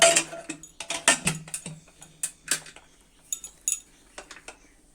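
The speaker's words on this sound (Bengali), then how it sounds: "এখন আমি প্রেসার কুকারের ঢাকনাটা লেগে দিব" A pressure cooker lid is fitted onto the pot, holding raw goat meat and water, with a quick run of close metallic clinks and clacks. The knocks are irregular, thin out toward the end, and there is no talk.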